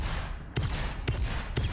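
A repeater handgun fires in the video game Vermintide: three loud, sharp shots spaced about half a second apart, each with a short rattling tail, over a busy background.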